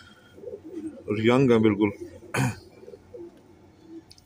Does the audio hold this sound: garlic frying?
no